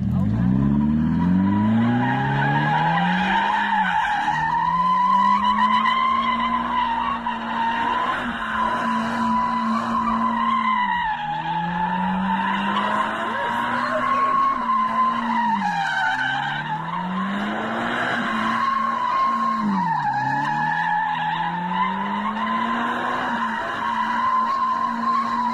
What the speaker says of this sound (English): So we got our first contender for the burnout competition.